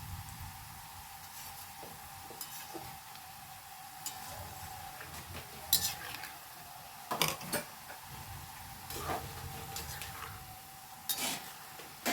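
A jackfruit mixture fries in a pan as a utensil stirs and scrapes it, a soft sizzle underneath with a few sharp clinks and scrapes at irregular moments, no voices.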